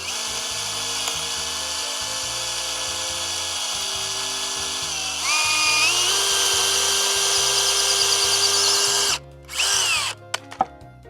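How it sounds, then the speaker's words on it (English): Power drill pre-drilling holes in wood for a veggie bed cover, its motor whining steadily, then rising in pitch as the bit bites. The clip ends with a couple of short bursts and clicks, and no one speaks. "I'm going to pre-drill holes, which will hopefully stop that from happening."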